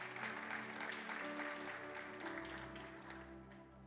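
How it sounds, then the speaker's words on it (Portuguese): Applause from a church congregation for a group of young people, steady and moderately loud, with music tones and some voices underneath. "Vamos aplaudir Jesus pela vida desses jovens abençoados"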